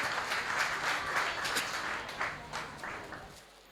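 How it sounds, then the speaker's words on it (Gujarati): An audience at a Gujarati comedy show applauds a comedian as he is introduced, a dense wash of clapping that holds steady and then gradually thins and fades. "આપણું ગૌરવ એવા વસંત પરેશને રજૂ કરીએ છીએ આપની જોરદાર તાળી સાથે."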